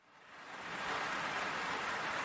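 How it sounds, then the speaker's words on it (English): Steady rain falling, a soft broadband hiss that swells in during the first second and then holds even and constant, with no voices. "Do you like the sound of the rain falling?"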